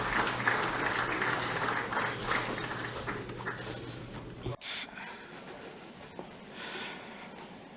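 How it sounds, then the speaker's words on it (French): A conference audience applauds at the end of a talk on economic development and energy transition, a moderate round of clapping from a seated crowd that cuts off abruptly, followed by quieter room sounds and faint murmuring. "Applaudissements."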